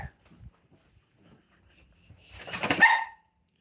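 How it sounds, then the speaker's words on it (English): A dog gives a short burst of barks at moderate distance after a few quiet, faint knocks and rustles. "Is that the dog barking?"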